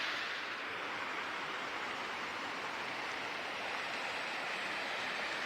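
A waterfall near a campsite in the Cranberry Wilderness of West Virginia, a steady, dense rushing roar of falling water, constant and fairly loud, with no voices.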